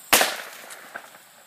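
A net launcher fires to catch a wild turkey, giving one sharp, loud pop like a firecracker, followed by a brief rustle and fading echo in an open outdoor setting.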